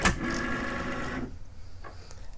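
Cricut Maker cutting machine with a knife blade installed drawing in a taped cutting mat, a steady whirring motor hum lasting about a second before stopping, followed by faint handling clicks.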